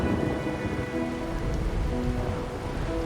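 Heavy rain pours steadily in the video game Wuthering Waves, a thick continuous roar with a low rumbling undertone and faint soft tonal music beneath.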